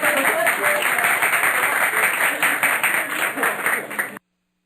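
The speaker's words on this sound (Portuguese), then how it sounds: "Ouçamos quando eu pergunto se eles querem aplausos e o público aplaudindo." Audience applauding, a dense burst of many hands clapping steadily at moderate volume for about four seconds before cutting off abruptly into silence.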